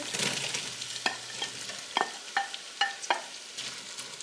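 Onion frying in a pan with a soft sizzle, overlaid by a series of distinct clinks and scrapes from stirring utensils, about six sharp knocks spaced through the stretch; close and moderately loud, no talking.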